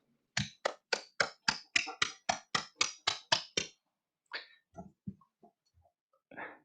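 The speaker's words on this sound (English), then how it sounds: "So big applause to Antigua and Barbuda." Applause at an official meeting, heard as a steady run of about a dozen evenly spaced, crisp claps followed by a few scattered, softer ones, with no talking.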